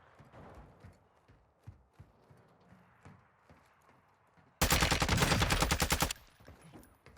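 A close-range gunfight in Call of Duty DMZ: after soft, scattered footsteps and movement, a loud burst of rapid automatic gunfire rattles for about a second and a half, then cuts off.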